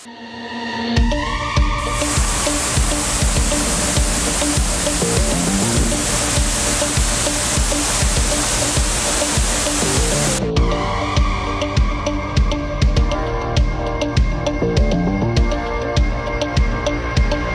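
Water rushing at a partly frozen waterfall high in the mountains near Tokyo, a steady broadband roar that swells loud after a second, holds, then eases to a lower flowing wash with irregular splashes.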